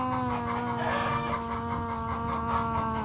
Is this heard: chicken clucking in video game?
yes